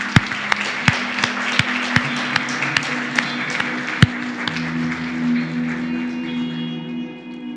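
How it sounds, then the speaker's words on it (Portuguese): A church congregation claps during a Sunday service, sharp claps landing in a steady beat over a sustained droning tone. The claps fade into a softer wash near the end. "Você pode aplaudir o Senhor?"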